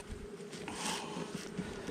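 Honeybees drone quietly at an open hive after a box of insulation is removed, a soft continuous buzz that is faint and close, with no talking.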